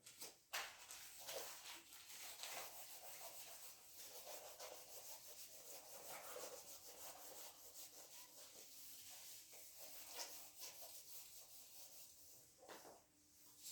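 A writing board is erased in a classroom setting, with soft repeated rubbing strokes that come and go in an uneven rhythm, faint and close.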